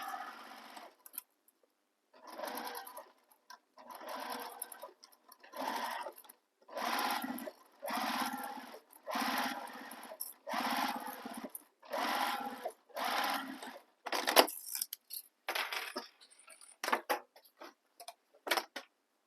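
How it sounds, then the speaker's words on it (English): A sewing machine stitches the side edges of a handbag in repeated close bursts of fast rhythmic whirring, separated by brief pauses, ending in shorter spurts. "Now we're going to sew the side edges along the sides, both the sides, using the seam allowance given in the pattern."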